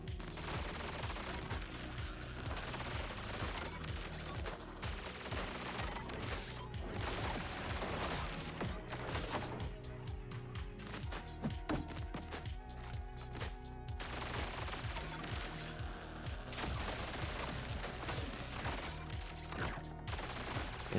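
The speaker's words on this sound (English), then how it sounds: "This SMG is not that great." SMG fire in the roguelike shooter ODDCORE rattles almost continuously in rapid, dense bursts, mixed with impact and game effects, sustained and busy throughout.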